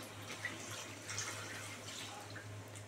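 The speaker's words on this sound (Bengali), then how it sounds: "এবারে মিক্সি ধোয়া জলটা দিয়ে দেবো" Rinse water from a mixer jar and curd bowl poured into a warped kadai during egg and pointed gourd curry cooking, a soft, faint trickle and splash with a low steady hum beneath.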